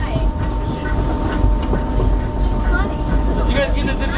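A Disneyland Railroad train rumbles steadily along the rails with a constant low drone and faint clatter, while indistinct voices murmur in the background.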